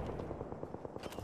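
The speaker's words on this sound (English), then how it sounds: "A second squad is firing here." Rapid bursts of gunfire from a second squad in an Apex Legends match, a steady crackling volley of shots at moderate distance, fairly faint and continuous.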